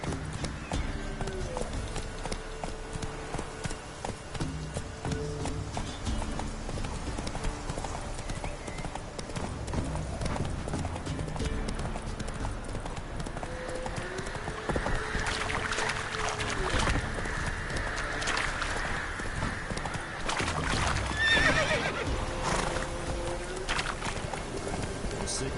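Roach the horse gallops in a PS4 video game, with rapid rhythmic hoofbeats running throughout and a brief neigh near the end over a faint background.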